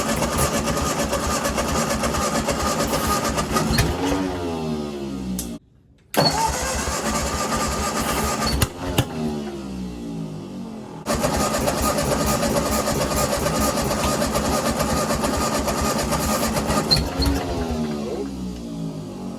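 An old Ford 8N tractor, left sitting in weeds for over five years and fitted with a swapped coil, cranks and catches, stalls briefly into silence, then restarts and settles into a rough, loud, close idle.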